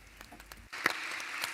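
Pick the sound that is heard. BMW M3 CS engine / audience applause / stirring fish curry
audience applause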